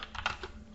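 Quick taps on a computer keyboard, a short cluster of four or five soft keystrokes heard alone and fairly faint.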